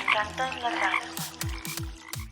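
Frogs croak close by in a rural setting, several short throaty calls repeating in an uneven rhythm, rising over a steady background hum.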